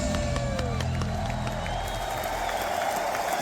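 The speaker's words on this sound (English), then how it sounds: "listening to the reaction from the crowd after watching their favorite band perform" Concert crowd roaring and cheering after a band performance, a dense, loud wash of applause and whoops that holds steady throughout.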